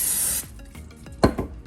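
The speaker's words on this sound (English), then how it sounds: "I'm just going to spray it with some food spray so the spare ribs don't stick to it." Cooking oil spray hisses in a steady burst onto an air fryer rack, close and fairly loud, followed by a few light knocks and rubbing sounds from handling the rack before cooking spare ribs.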